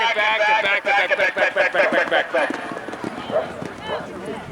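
A loose horse gallops on a point-to-point race course, its rapid rhythmic hoofbeats fading as it goes, under an excited announcer's voice.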